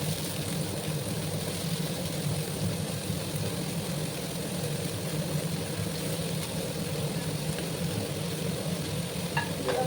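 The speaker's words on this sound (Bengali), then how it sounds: "এবার আমি কয়েক কোয়া রসুন দিয়ে দিলাম আর তার সাথে আমি এবার মেথি শাকগুলো দিয়ে দেবো।" Fenugreek greens with garlic sizzling and being stirred in hot ghee, a steady close, continuous frying hiss with faint scraping throughout.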